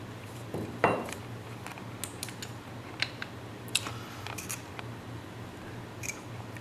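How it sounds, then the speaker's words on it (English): An airsoft steel bolt carrier locked to the rear: a soft metallic slide and click near the start, then a few light clicks and taps over a steady low hum. "I lock the bolt to the rear and press the bolt lock."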